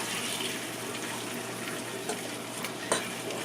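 Liver pieces sizzle steadily in a frying pan, a constant close crackle with a couple of brief clinks and scrapes as a fork turns them.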